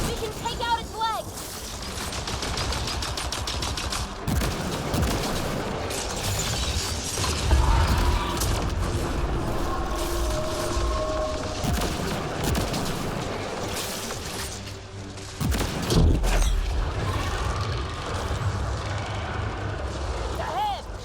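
Sustained gunfire and mechanical clanks during a fight against the Architect in Mass Effect Andromeda, loud and dense throughout with explosive bursts, while voices talk over the action.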